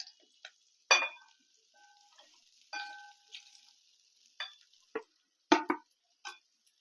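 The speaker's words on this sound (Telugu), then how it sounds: "బాగా కలుపుకోవాలి మళ్ళీ అన్నం అంతా హీట్ అవ్వాలండి చల్లారిపోయిన అన్నం అంతా మళ్ళీ వేడవ్వాలి" Cold cooked rice, part of a cumin jeera rice, is stirred in a hot pan for reheating, giving sparse, quiet spoon clicks and scrapes with short bursts of crackle and silent gaps between.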